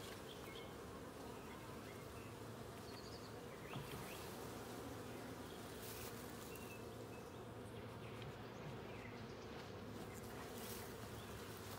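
Honey bees buzz steadily and closely throughout an open top bar hive inspection, a dense continuous drone with no talking.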